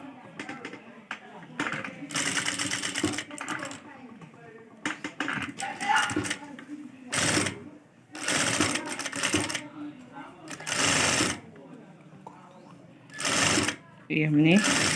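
A domestic sewing machine stitches right along the edge of a two-layer boat-neck piece for a suit or kurti, running in several loud bursts separated by pauses, with someone speaking between and over the runs.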